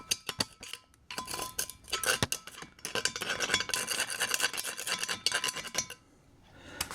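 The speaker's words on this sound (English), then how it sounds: "scraping these two intakes to see what I get to fall out of the port" Metal scraping and rasping inside the intake ports of Magnum V8 cylinder heads comes in quick irregular strokes, close and fairly quiet, with a few sharp clicks and a pause near the end.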